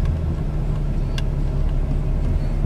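A 2014 Ram pickup with a Cummins diesel drives along, its steady low engine drone and road rumble filling the cab throughout, with no talking.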